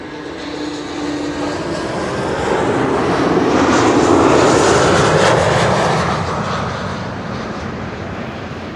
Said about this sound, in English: This is KLM flight 964, flown by Britty Hopper, aka Eastern Airways.